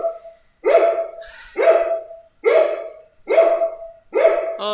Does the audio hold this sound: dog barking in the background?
yes